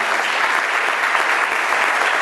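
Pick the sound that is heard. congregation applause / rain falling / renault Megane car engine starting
congregation applause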